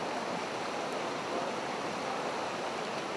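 The Dhobi Khola river in Anamnagar, Kathmandu, swollen by monsoon rain, gives off a continuous broadband rush of flowing water, steady and moderately distant, with no voices.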